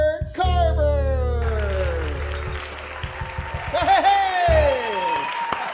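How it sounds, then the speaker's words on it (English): A studio audience at a comedy show welcomes the host with sustained applause and clapping, loud and close, under an announcer's booming voice and some cheering. "You're done clapping?"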